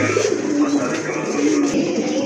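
A pair of Giribaz pigeons coo nearby in repeated low, rolling calls, while a person talks faintly in the background.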